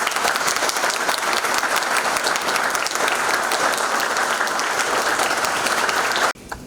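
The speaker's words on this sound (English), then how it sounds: "please join me in welcoming Justice Oak with a round of applause." A lecture audience applauds warmly to welcome a speaker, with dense, steady clapping from a full hall lasting several seconds before it cuts off abruptly.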